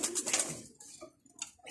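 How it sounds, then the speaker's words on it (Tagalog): Pigeons cooing inside a loft: a short burst of soft throaty coos up close, then fainter scattered calls trailing off. "Yan yung ating mga ibon."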